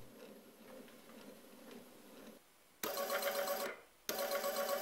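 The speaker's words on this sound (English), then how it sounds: "This motor from an old printer is more powerful, here it's driven with 5V." A geared motor salvaged from an old printer turns a threaded rod on 5 volts, giving a steady faint whir that jumps to a louder buzzing grind in two bursts.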